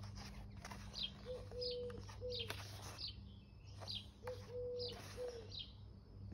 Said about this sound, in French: J'espère que vous entendez pas trop les oiseaux et tout ça.